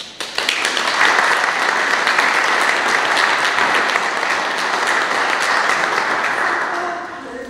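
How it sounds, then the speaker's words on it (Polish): Sustained applause from an audience at a blood donor honours event in Wałbrzych, dense steady clapping rising quickly and holding for several seconds before tapering at the end. "Ogromne brawa."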